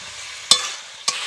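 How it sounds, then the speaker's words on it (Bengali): Spices and vegetables, including turmeric and chilli powder with ridge gourd and pumpkin, are stir-fried for a rohu fish curry. A steady soft sizzle runs throughout, broken by two sharp stirring scrapes, and no one speaks. "সব কিছু একটু ভালো করে কষিয়ে নেব।"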